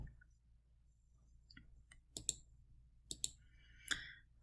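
Crisp computer mouse clicks in a quiet room, a few faint taps followed by three distinct double clicks spaced about a second apart, no talking.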